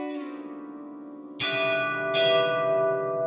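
Sustained tonal notes pass through the PSP PianoVerb reverb plugin set to a fully wet mix, with two fresh attacks blooming into long, shimmering, resonant tails that ring on loudly with no voices.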